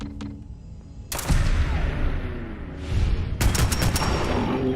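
Gunfire erupts in Fallout 4 in sharp, loud bursts of shots, first a single crack and then rapid clusters of firing over a rumbling background of combat.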